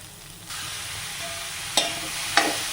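Chopped carrot and snake gourd drop into a hot pan with oil, setting off a loud, steady sizzle up close, with two brief sharper crackles as the pieces settle.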